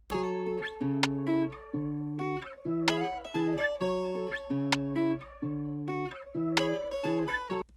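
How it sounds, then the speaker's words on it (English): A repeating melodic bass loop beat with sharp, bright rim shot hits added, cutting through at regular intervals, no talking. "So from there, let's see, I added this rim shot."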